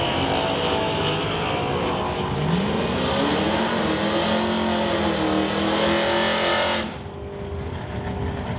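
A 1969 Acadian and an S10 drag racing car launch down a drag strip, engines roaring loud and close with rising pitch before cutting off abruptly, leaving a distant hum.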